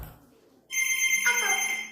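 An electronic telephone-like ringing tone used as a coded alien telepathy effect in a children's coding class, starting abruptly and sustained loudly to the end, with a faint voice just before it.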